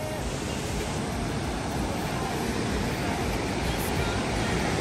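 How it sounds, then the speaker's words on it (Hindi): A river rushes through a mountain valley in Tirthan Valley, Himachal, making a steady, loud, broadband roar of flowing water nearby with no break. "पानी का फ्लो चेक करो।"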